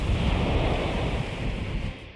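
Ocean surf breaking close by at a big-wave spot, a continuous loud roaring wash of white water with wind noise buffeting the microphone, no voices.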